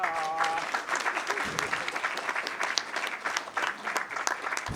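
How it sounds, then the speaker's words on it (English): Audience applause at a school board meeting recognizing a student, continuous and moderately loud, with a short voice-like tone at the start before the clapping dominates. "Clap it up."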